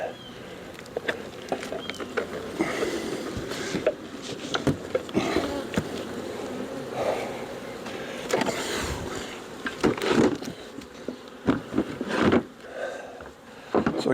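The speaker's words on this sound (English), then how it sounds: "Lots of good bees in here that they're working" Honey bees in a kitchen hive drone in a steady, close buzz throughout, with intermittent handling knocks and rustles from the hive being worked.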